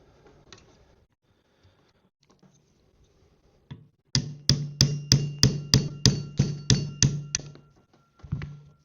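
A small hammer drives a punch against a katana's fitting pin, striking about ten sharp, evenly spaced metallic taps in a steady rhythm, close and clear, after a few quiet handling sounds and before a final pair of hits.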